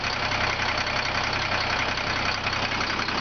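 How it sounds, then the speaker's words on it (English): A Volvo garbage truck with a recycling body idles while hot, a steady close diesel rumble with an even, rapid knocking pulse and no change in speed. "the engine is hot at an idle."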